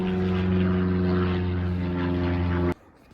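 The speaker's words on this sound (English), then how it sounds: "typical plane going over" A propeller airplane passes overhead above a garden, a loud, steady droning hum with layered engine tones that holds for several seconds and then cuts off abruptly.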